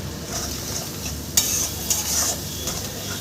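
Spices and slit green chillies are sautéed in a pan for shukto, a soft sizzle under scraping stirs, with a couple of sharp utensil knocks against the pan.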